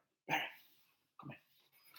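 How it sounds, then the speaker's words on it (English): A pet dog at home gives two short barks with a pause between them, fairly close and alone with no talk over it. "I'm going to show you my dog."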